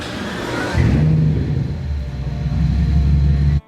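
A crash-damaged Rolls-Royce moving forward for the first time since the accident, its engine giving a loud, steady low rumble and whir that swells briefly before cutting off abruptly near the end.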